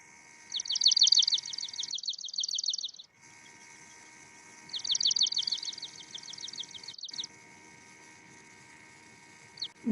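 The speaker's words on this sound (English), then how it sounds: "The swamp sparrow sounds similar to that mechanical trill." Swamp sparrow singing a mechanical trill, two bursts of rapid, evenly repeated notes, fairly close and clear against quiet background.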